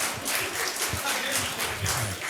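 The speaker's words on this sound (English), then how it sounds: "let's give ourselves a round of applause" An audience at a community care division convening breaks into a round of applause, a steady dense wash of clapping mixed with laughter and chatter that holds evenly throughout.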